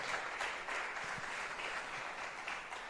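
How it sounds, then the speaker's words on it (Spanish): Faint crowd applause from a church congregation, a quiet, continuous patter of many hands clapping at a distance. "¿Cuántos le dan un aplauso al Señor?"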